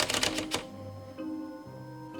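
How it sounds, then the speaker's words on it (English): Keys of a typewriter clatter in a quick burst of sharp strikes at the start, then stop, leaving a low hum and faint background noise. "Jillian, why were you typing that?"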